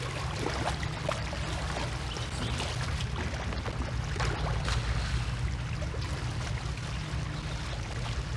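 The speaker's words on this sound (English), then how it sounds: "Okay, this is some shallow water." Wading through shallow water in the game Inside gives a continuous sloshing, splashing wash, steady and close, with no voices.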